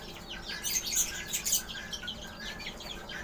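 Kept birds including magpie robins chirping in a home aviary, a busy run of high twittering calls with some louder bursts, steady background hiss and no talk.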